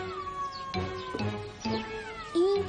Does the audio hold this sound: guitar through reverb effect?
no